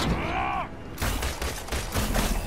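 Gunfire in the Marvel's Avengers video game, bursts of shots over game noise after a brief whooshing effect, continuous and moderately loud.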